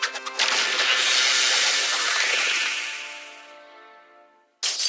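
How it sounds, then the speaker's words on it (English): A cartoon batarang shatters like glass after being frozen by extreme cold: a sharp crash bursts into a long ringing, tinkling decay of glassy shards that fades over several seconds, followed by a brief new burst at the end. "it's not going to shatter like that and sound like glass when it does"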